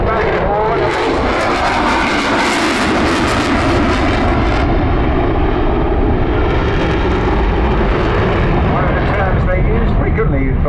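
A Eurofighter Typhoon jet roars past at the Southport airshow 2022, a loud, sustained engine rush that swells and slowly fades, with an announcer talking over it.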